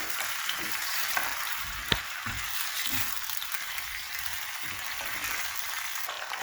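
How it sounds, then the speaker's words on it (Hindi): Potatoes fry with onions in a pan, a continuous close sizzle with occasional soft knocks and scrapes from a stirring spoon. "आलू को यहाँ पे हम फ्राई कर लेंगे। चम्मच चलाते जाएँगे और 3 से 4 मिनट के लिए हमने इनको फ्राई कर लेना है।"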